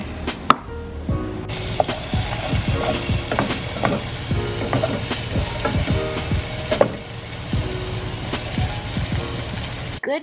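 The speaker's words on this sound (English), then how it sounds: "We're gonna get that started by sauteing on the pan until you get that aroma." Chopped herbs and vegetables sauté in a hot pan as the base for rice and red beans, with steady close sizzling and frying and frequent stirring and scraping throughout.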